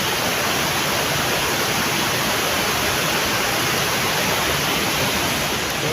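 A river flowing near a forest trail on the way toward a mountain, heard as a steady, dense rush of water that fills the whole clip at an even level, with no voices.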